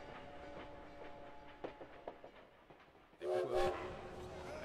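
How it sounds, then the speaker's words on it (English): Trains at a Paris railway depot: a steady horn-like tone and rhythmic clacks of rolling wagons, then a louder burst of hissing, squealing station noise near the end, with no talk. "At the train depot in Paris"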